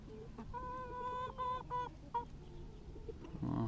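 Several chickens cluck and call in short harmonic bursts, fairly close, with a soft rustle of background noise between calls.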